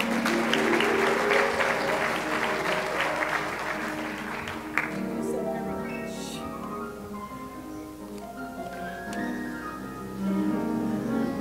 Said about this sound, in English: Would you give her a big round of applause as she comes?